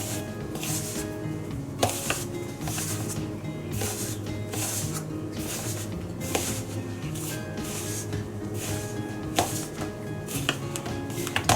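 Wheat flour and semolina dough for shakkarpara being mixed by hand, with repeated close, soft rubbing and squishing strokes in a steady rhythm.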